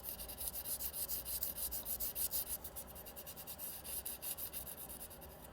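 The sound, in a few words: gentle sanding of surface before painting fish lure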